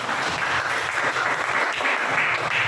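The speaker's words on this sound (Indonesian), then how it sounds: "Oke, beri tepuk tangan." Classroom applause from students during a teaching practice session in Medan, a steady dense wash of clapping lasting the whole stretch at even loudness.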